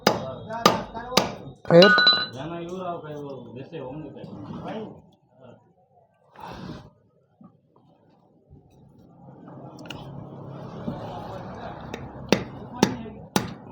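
Sharp hammer blows on rivets of an electric motor part, a few loud close strikes at the start and end, with someone speaking in between and quiet gaps.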